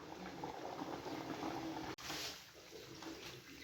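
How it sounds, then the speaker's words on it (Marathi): Chana dal kachori deep-fry in hot oil with a steady, close sizzle and dense bubbling that eases slightly partway through. No one speaks. "त्यात आपण कचोरी सोडून घेऊया. छान गोल्डन ब्राऊन होईपर्यंत तळूया."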